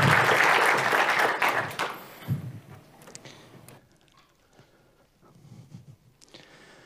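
A conference audience claps for a speaker being welcomed on stage at a symposium plenary session, a loud burst for about two seconds that quickly thins to a few scattered claps and quiet room noise.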